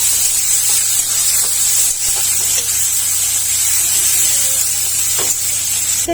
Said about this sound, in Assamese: এয়া কাটি থোৱা পিয়াজ দি লৈছো